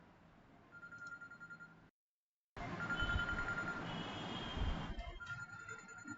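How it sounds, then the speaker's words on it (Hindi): A telephone rings with repeated electronic trills, cut by a brief silence, then continues amid a busy background hum. "फोन आ रहा है"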